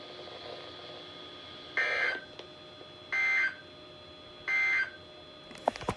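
Three long, loud electronic alert tones from a NOAA Weather Radio test, evenly spaced over a quiet broadcast background, followed by a short burst of clicks.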